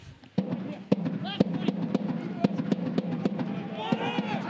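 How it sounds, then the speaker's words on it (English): Fans beat drums inside a soccer stadium during a USL match between Real Monarchs SLC and Phoenix Rising FC: sharp, evenly spaced thumps repeat over a steady crowd murmur, with a few whistles and shouts rising near the end. "A few drum noises happening here at the Riot."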